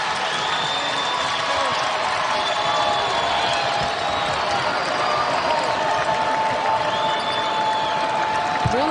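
A packed basketball arena crowd at a Big Ten game between Iowa and Michigan roars and applauds steadily, a broad, sustained wash of cheering and clapping with scattered whoops.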